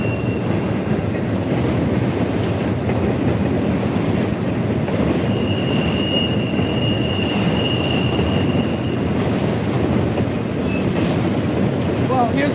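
FEC freight train passing at Stuart, a continuous loud rumble of rolling wagons with wheel squeal and clatter, close and steady throughout.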